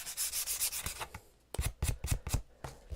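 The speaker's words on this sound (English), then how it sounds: "once I have that all sanded and I'm happy with the look of it" Short, dry rasping strokes of sandpaper rubbing along the edges of a wooden piece to give it a worn, distressed look, first a quick series, then a pause, then several harder, louder passes.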